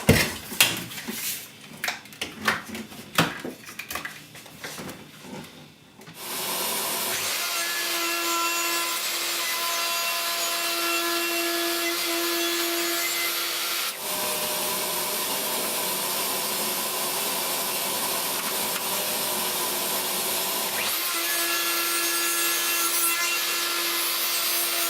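A router bit cutting rebates into small wooden pieces, first some scraping and knocking of handling, then a loud steady high-pitched whine with a few brief breaks between passes.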